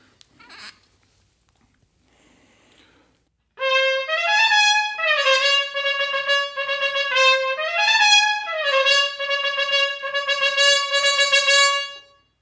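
A muted brass instrument plays the flourish from Goldenberg and Schmuyle in Pictures at an Exhibition as quick repeated notes and rising and falling runs, close and fairly loud, after a few seconds of faint quiet sounds.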